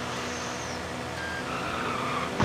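A 1998 Honda Civic coupe's engine in the DiRT Rally racing game drones steadily and loudly throughout, with a high whine rising partway through and no talking over it.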